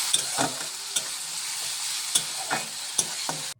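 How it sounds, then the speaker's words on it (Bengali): Ginger garlic paste and onions sizzle steadily in a pan, broken by the regular scrape and clack of a spoon stirring through them. The frying is moderately close and there is no talking. "এক চামচের মতো আদা রসুন বাটা দিচ্ছি ভালো করে কষিয়ে নেব"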